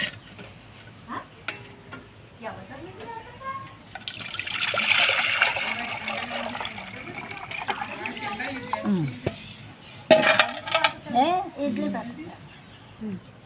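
Water pours and splashes into a cooking pot for a few seconds, with a person talking before and after, while making junnu, an Indian milk pudding.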